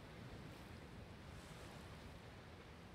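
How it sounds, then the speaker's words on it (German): A wave breaks on the shore in the Dragon Quest Builders 2 video game, a soft continuous surf wash with a faint, even hiss and no other sounds over it. "Eine Welle bricht am Ufer und zieht die Leiche mit sich aufs offene Meer hinaus."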